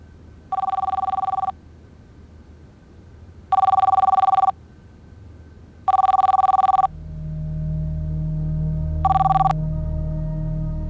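A telephone rings unanswered in four spaced bursts of a bright electronic bell, clear and close; a low hum rises in the background near the end.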